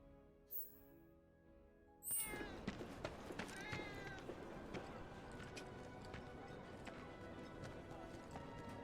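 A cat meows in the video game Final Fantasy 7, heard amid busy game music and ambient town sounds while a person talks over the scene.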